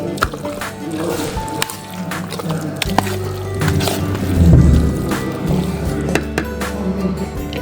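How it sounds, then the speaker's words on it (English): A spoon stirs a pudding mixture in a bowl, giving wet squishing and scraping sounds with soft clinks, close, while a voice talks intermittently. "after you put it in, you got to stir it"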